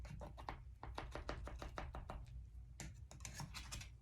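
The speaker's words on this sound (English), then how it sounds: "I want to make sure I cut through all of the apples" A knife chops through apples on a board for a keto apple-yogurt pie, a quick run of crisp, evenly spaced cuts followed after a brief pause by another burst of rapid chopping, close and clear with no talk.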